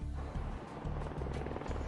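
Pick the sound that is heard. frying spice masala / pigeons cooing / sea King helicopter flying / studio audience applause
sea King helicopter flying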